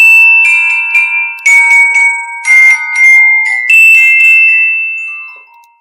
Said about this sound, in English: we're going to see a woman playing a very small celesta, and it will almost sound like she's playing very, very high bells